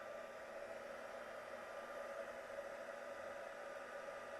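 A hair dryer blows steadily to dry a watercolor painting, probably a snowman Christmas card with masking fluid on it. It makes a constant, even airy whoosh from start to end with no talk.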